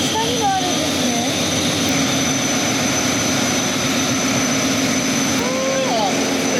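The main engine of the cruise ship Luminous Kobe 2 drones in a steady, loud mechanical roar and hum inside the engine room, with people talking briefly over it.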